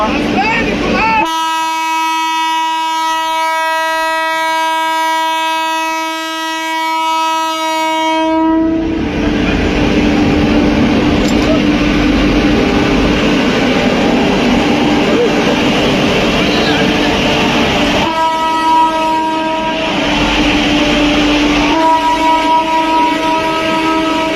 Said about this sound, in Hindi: ये वही ट्रेन है और जो रुकी है दिलदार नगर।